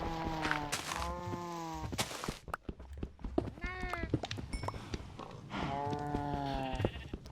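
A sheep in the blocky sandbox game Minecraft, on a one-block skyblock island, bleats several times in quavering bursts with short pauses between, fairly close and with no talk over it.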